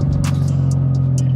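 A homemade straight-pipe exhaust, scaffolding-wide, on a tuned Stage 2 BMW F30 330e plug-in hybrid makes a steady low bellowing drone close by, with a few brief higher hisses over the rumble and no talk.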